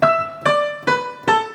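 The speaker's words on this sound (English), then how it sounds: "If you do it without the pedal, it'll sound like this." Four piano octaves struck one after another at a steady pace without the sustain pedal, each note dying away quickly before the next, dry and clipped.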